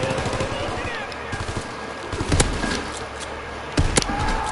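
Rapid video game gunfire crackles in bursts through the whole stretch over a busy mix of game effects, with two sharper, louder shots standing out.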